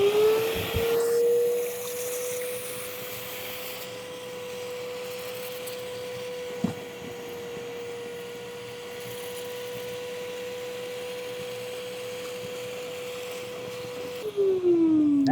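A carpet cleaning machine switched on to work cleaner into carpet fibers, giving a steady motor whine and airy rush that holds level for about thirteen seconds, with a click midway, before spinning down.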